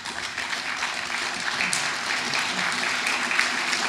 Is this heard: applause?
yes